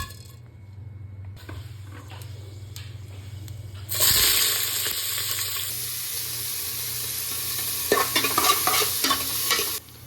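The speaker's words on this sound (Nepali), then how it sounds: "तेल त हालिसकेको छु, अब खडा मसला हाल्नु पऱ्यो यति।" Whole spices drop into hot oil, a faint hum giving way to a sudden loud sizzle that keeps crackling steadily, with a few sharp clinks of stirring toward the end.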